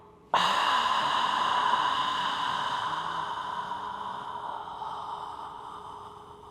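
One long, deep breath during a hamstring mobility stretch comes as a sudden loud rush of air that slowly fades over several seconds, close and alone with no talking.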